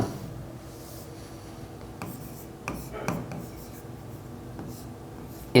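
Marker or chalk scratching across a classroom board during an ICT programming lesson, a few soft rubbing strokes over steady background noise.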